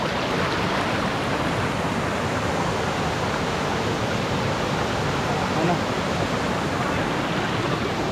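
Steady broadband roar of Nilam Sarai waterfall in Bijapur district, Chhattisgarh, heavy falling water close by, unbroken and even throughout with no clear voices over it.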